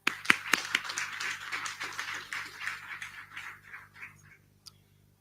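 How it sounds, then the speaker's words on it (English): A small audience claps for school learners at a National Senior Certificate results announcement, a few sharp early claps and then light, scattered applause that thins and fades over several seconds, ending with one last clap. "let's give our learners a round of applause"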